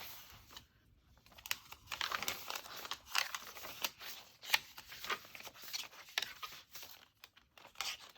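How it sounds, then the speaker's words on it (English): Masking paper in a handmade Christmas paper-bag and file-folder journal, handled with soft, close crinkling crunches and rustles that come and go over several seconds. "This is the masking paper. I love that little crunch that you get."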